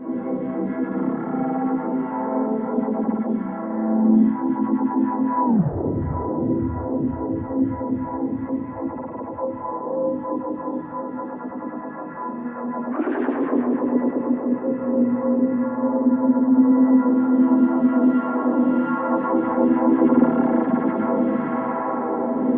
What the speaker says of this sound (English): get some really interesting rhythmic movement going on with my reverb